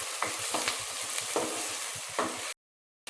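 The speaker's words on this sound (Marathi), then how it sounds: "कांदा टोमॅटोला एक लालसर रंग येईपर्यंत परतून घ्यायचा आहे" Onion and tomato are stirred and fried over low heat for a dried-shrimp sukat bhaji, with a rhythmic scrape of the spatula against the pan over a constant close sizzle, then abruptly cut to silence near the end.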